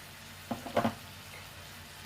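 Soybean chunks with Kashmiri red chilli powder and turmeric sauté in a pan, a faint sizzle under a few brief spoon scrapes and clinks, then a sharp knock at the end, with no talking.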